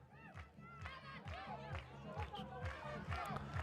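Football supporters of Shahrdari Shahrvrak chant and cheer as one during a Mes Shahrbabak versus Damash Gilan match, heard as a rhythmic, distant stadium roar under a close commentator's voice.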